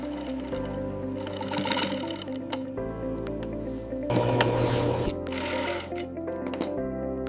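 Rapid mechanical stitching of crocodile leather goods, a sewing machine running in repeated bursts with rhythmic needle clatter and short pauses between runs, close and fairly loud, with no talk over it.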